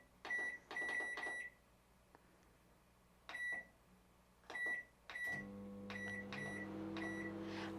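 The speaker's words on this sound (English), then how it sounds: "I'm going to microwave them for 2 minutes" A microwave oven sterilising four glass jars for jam making: a series of short keypad beeps, then the door shutting and a steady low hum as it starts running, close by with no talking.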